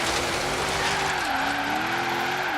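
Tires squeal in a sustained, wavering screech as a car drifts in the video game Forza Horizon 3, engine droning underneath with pitch rising and falling through the slide.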